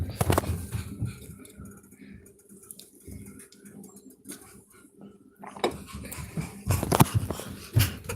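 A puppy breathes and whimpers close by, soft snuffling and wheezy breaths with a few louder bursts toward the end, amid quiet kitchen background.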